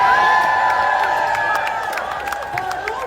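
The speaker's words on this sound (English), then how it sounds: "Look at this crowd, y'all." A large crowd cheers and shouts at an outdoor No Kings protest rally against Trump, loud and sustained at first, then easing back slightly with scattered whoops and claps.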